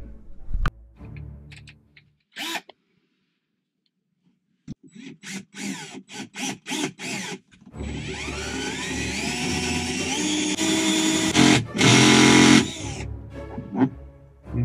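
A power drill bores through fiberglass into wood outside, starting with short bursts and then running long and close for several seconds with a rising whine, and a final loud burst near the end.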